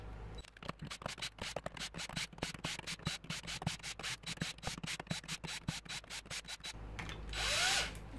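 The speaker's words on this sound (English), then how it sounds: "a cordless screwdriver, or what's it called, with the attachment on it" A cordless screwdriver with a socket attachment undoing motorcycle clutch bolts, giving rapid repeated ratcheting bursts in a steady rhythm, close and fairly quiet, ending with a longer whirring spin.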